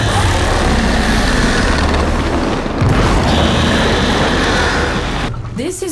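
A video game explosion booms loudly with a dense roar, then settles into a continuous rumbling wash with a second surge near the end; no one speaks.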